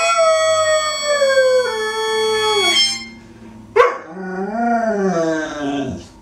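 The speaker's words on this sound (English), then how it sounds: "Singing dog, first super delegate to endorse now President Obama" A dog sings in long, wavering howls, one sustained tone sliding slowly downward, then after a sharp break a second rising and falling howl; loud and close, with no talk.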